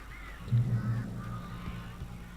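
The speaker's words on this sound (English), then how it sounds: "We're gonna get attacked, accosted by birds." Birds attacking in the video game Alan Wake: a few low honking, cawing calls sound close by over a steady droning game background, with faint higher cries beneath.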